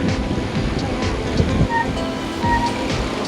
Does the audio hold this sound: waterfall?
yes